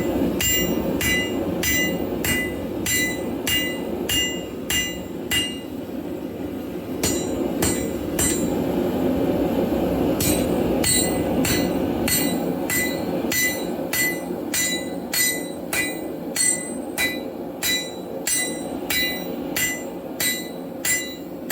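Steady rhythmic hammer blows flatten bar stock to about 1.5 inches wide for a coat rack, ringing metallic strikes repeating close and loud over a continuous background hum, with a brief pause midway.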